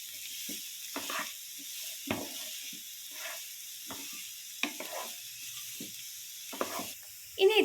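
Three sliced onions sizzle in a frying pan for a chicken cutlet, a soft continuous hiss broken by scattered stirring clinks and scrapes, with a louder clatter at the end.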